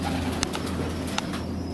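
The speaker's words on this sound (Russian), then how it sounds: "Мои голуби." Pigeons coo inside a dovecote in a low, continuous murmur, with a few sharp clicks and faint wing flutters over the steady flock sound.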